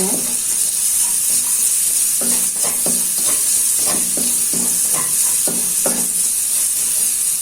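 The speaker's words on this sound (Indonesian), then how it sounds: "Ini untuk bawang merahnya saya tumis dulu." Shallots sautéing in a wok, a steady loud sizzle throughout with repeated scraping stirs of a spatula breaking through the frying hiss.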